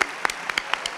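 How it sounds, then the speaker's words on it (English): Audience applause at a nursing school pinning ceremony, a brief dense burst of clapping from a crowd, loud and close, lasting only a moment. "Can you guys please give them a round of applause or this day wouldn't happen?"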